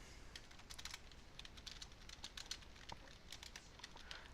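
Comment text is typed on a computer keyboard in a rapid, uneven patter of soft key clicks, close but faint over a quiet hiss.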